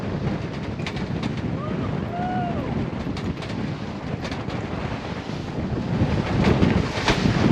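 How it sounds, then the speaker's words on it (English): Waves and strong wind batter a sailboat under reefed sail on its first ocean voyage, a continuous loud rushing roar of wind across the microphone with surging water that swells louder toward the end. "Look at those waves."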